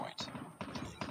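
Call of Duty Mobile gunfire comes in sharp repeated bursts of shots over game background noise, with a voice talking faintly underneath.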